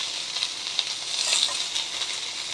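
Onion drops into a hot pan for a dosa chutney and sizzles with a bright, continuous hiss that swells briefly in the middle, with light stirring scrapes underneath.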